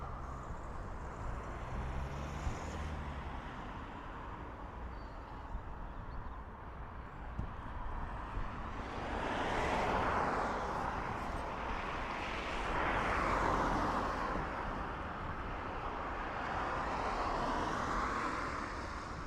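An Emirates airliner takes off at Dublin Airport. Its jet roar is already present at a distance, then swells louder and fuller midway with a broad rushing rumble, and lingers near that level as the aircraft climbs away.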